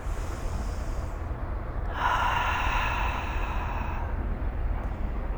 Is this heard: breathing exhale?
yes